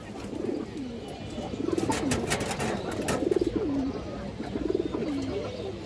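Pigeons at a seller's coop, including a white Army male, give loud, close, rolling coos in repeated bursts of rising and falling calls over a steady murmur of background noise.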